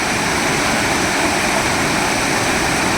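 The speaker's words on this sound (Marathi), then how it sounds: "पूर्णपणे हे पाणी आता जे पुराचं पाणी तर मोठ्या प्रमाणात वाहत आहे" Floodwater from heavy rain on the Khardi stream rushes loud and unbroken past a washed-away bridge, a constant close roar of churning water with no pauses or voices.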